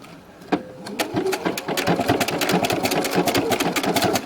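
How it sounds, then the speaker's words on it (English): A sewing machine stitches along the edge of quilt binding, its needle running in a fast, steady, even patter close by after a brief start. "I'm going to start sewing, and I'm going to follow this line right along the edge of the binding"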